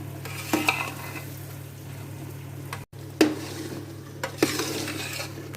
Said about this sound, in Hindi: इसको फ्राई करते जा रहे हैं हम लोग सूजी को